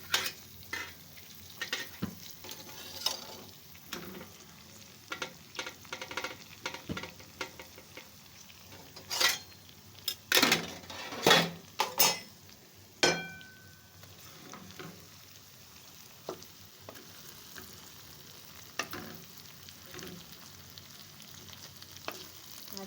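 Bhindi (okra) frying in a pan, soft continuous sizzle broken by clusters of sharp scraping and clinking spoon strokes as it is stirred, fairly close and quiet, without voices.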